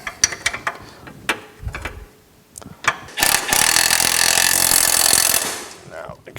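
A nut and bolt on a Thunderhawk Performance hitch for a Polaris RZR 900XP are tightened: quick clicking ratchet strokes, then a sustained loud mechanical burst from a powered tool lasting about two seconds.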